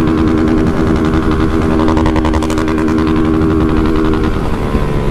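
A motorcycle engine runs loud and close on a Sunday ride, a steady rough throbbing drone that shifts in pitch near the end, with no talking over it.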